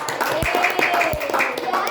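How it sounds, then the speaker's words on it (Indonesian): Several pupils in an Indonesian-language classroom lesson clap their hands in a steady, moderately loud patter that lasts throughout, with a voice faintly underneath. "Tepuk tangan."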